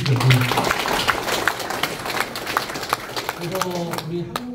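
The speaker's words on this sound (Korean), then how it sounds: "서로 박수 한 번만 쳐주시죠" An audience at an agricultural cooperative education session applauds, a dense patter of clapping in the middle, with someone speaking before and after it.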